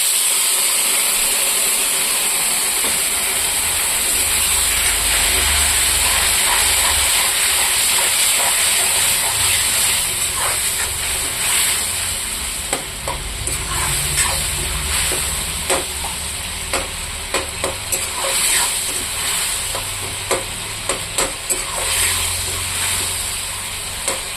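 Tomato and onion fry in a pan after a splash of water, a long steady sizzle and steam hiss, with sharper clicks and scrapes of stirring in the second half and no talking.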